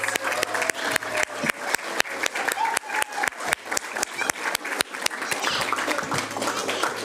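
Clapping from a board of education meeting audience, honouring school staff and children: sharp separate claps spaced out at first, thickening into fuller, continuous applause toward the end.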